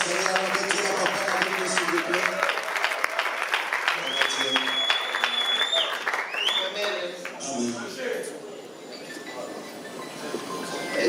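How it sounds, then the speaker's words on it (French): Audience applauding at a church conference in a hotel, a dense sustained clapping that fills the room, with a voice speaking over it and the clapping tapering toward the end. "Vous pouvez applaudir mon papa Delgante."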